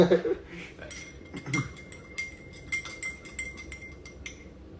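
Dishes being washed, with bright clinks and clatters of plates, pots and cutlery arriving in quick irregular bursts, close but fairly soft, over low background noise.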